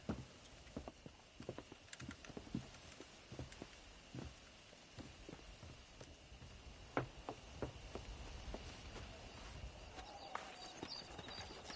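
Horse hooves clip-clop steadily on the ground while breaking in horses at a ranch in Red Dead Redemption, an irregular walking rhythm of moderately close thuds over a quiet ambient background.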